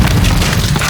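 A loud, dense explosion blast in a modern war action film, a short roaring burst of heavy low rumble and crackling debris noise.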